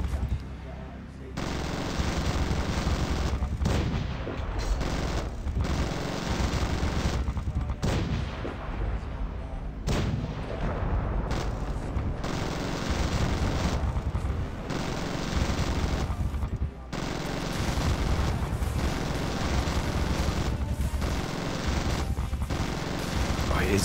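Gunship gunfire in Zombie Gunship Survival produces heavy cannon and machine gun fire in rapid, dense volleys, loud and nearly continuous with brief gaps.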